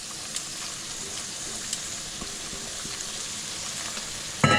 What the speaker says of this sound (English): And now we're going to add the spinach.